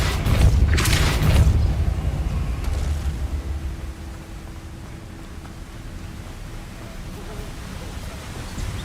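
A Depulso spell is cast in Hogwarts Legacy, a heavy booming burst near the start that trails off into a long, low, airy rumble.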